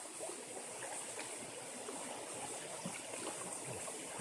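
A river stream flows steadily over rocks, giving a constant broad rushing wash with no break and no voices.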